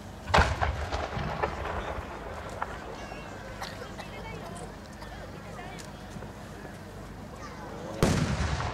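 An 8-inch firework shell bursts at a Japanese fireworks competition in Aizu, with a sharp boom followed by a long crackling, rumbling tail and a second loud burst near the end, while an announcer's voice carries underneath.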